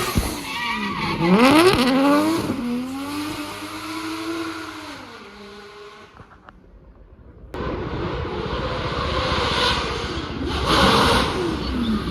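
A high-revving 4-litre hypercar engine screams through gear changes racing uphill at the Goodwood Festival of Speed hillclimb, rising and falling in pitch, drops away briefly, then roars back loud and close.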